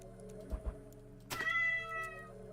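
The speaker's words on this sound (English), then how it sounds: "Cat is very angry." An angry cat in the video game Cyclopean: The Great Abyss lets out a drawn-out, tonal meow after a couple of soft thumps, heard fairly clearly over a low steady background hum.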